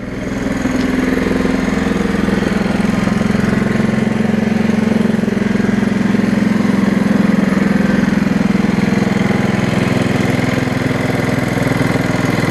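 An 11 hp Honda engine powering a tractor in first gear, low range, runs steadily at close range, a constant loud drone with a strong low hum that holds unchanged from start to finish.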